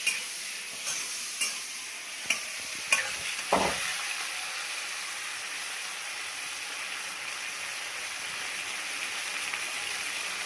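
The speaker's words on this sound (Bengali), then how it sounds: "চিংড়ি মাছগুলো ভালো করে ভেজে নেবো।" Prawns fry in a pan with a steady, even sizzle, opened by a few sharp spatula knocks and stirring clacks before the hiss carries on alone.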